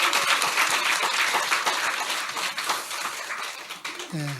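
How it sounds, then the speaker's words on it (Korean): A church congregation applauds after a Christmas joint choir performance, a steady dense wash of clapping that fades slightly near the end while a voice briefly speaks over it. "우리 경의의 박수 한번 하겠습니다"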